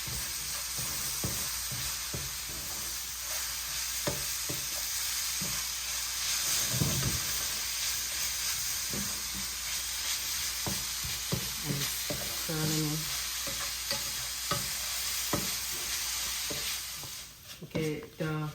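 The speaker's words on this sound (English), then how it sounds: "the coconut and ginger is brown enough, so just keep on stirring." Grated coconut and ginger browning in a pot for Liberian coconut candy, a continuous sizzle and hiss with repeated stirring scrapes and spoon knocks throughout, a voice briefly audible.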